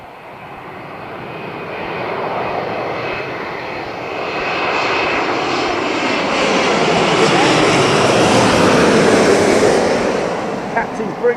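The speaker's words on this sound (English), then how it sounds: "It's Saudi Arabian Airlines Dreamliner. This will most definitely make a little bit of a mess of the runway," A Saudi Arabian Airlines Boeing Dreamliner landing at London Heathrow, reverse thrust building into a broad, loud roar that swells steadily over several seconds and stays strong near the end.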